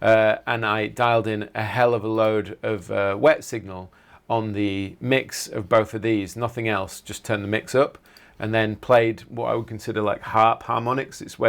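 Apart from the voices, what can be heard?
None of the usual background noises is heard.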